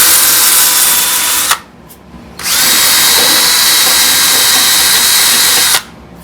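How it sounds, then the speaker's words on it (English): Water sprays in a steady loud hiss onto a car door from a 1970 Challenger in a shop, running in two long bursts with a short break between them, close and without speech. "What I've just done is sprayed this down with water"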